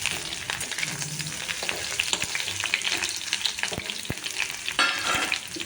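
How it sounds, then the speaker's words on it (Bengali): Eggplant pieces frying in oil with salt and turmeric in a wok, a steady busy sizzle running throughout with occasional sharper crackles and pops, close and fairly loud, no voices. "এবার কড়াইয়ে পরিমাণ মতো তেল দিয়ে নিয়েছি এবার সবজিগুলো একে একে ভেজে নেব প্রথমে আমি বেগুনগুলোকে ভেজে নিচ্ছি"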